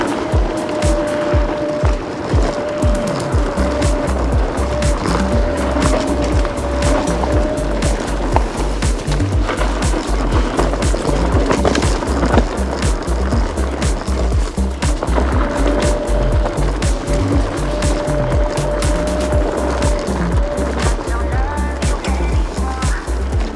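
Rugged off-road ride on a Kaabo Wolf King GTR electric scooter, with steady rumbling wheel and suspension noise over rough ground, loud and close with frequent bumps and jolts throughout.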